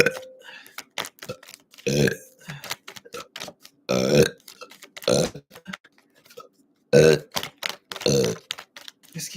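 Several loud, throaty burps come in separate bursts spread across the stretch, close to the mic, with short voiced sounds and breaths between them.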